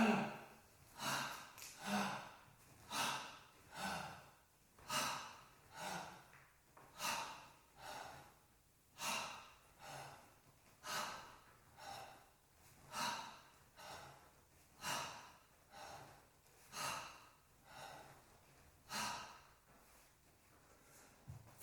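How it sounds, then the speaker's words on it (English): Slow, steady belly breathing during a diaphragm-strengthening exercise, in through the nose and out through the mouth, with about a dozen soft, close breaths in an even rhythm and no talking. "Breathe in through the nose, push the lower abdomen out. Breathe out through the mouth"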